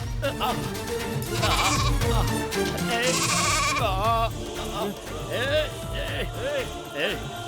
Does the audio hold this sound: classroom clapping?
no